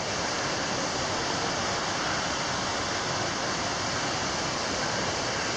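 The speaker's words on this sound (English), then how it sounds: "this is Blood Mountain Creek. It runs into Dix Creek down below." Steady rush of Blood Mountain Creek running over rocks in the Georgia mountains, a broad, constant wash of flowing water that stays close and even throughout with no voices.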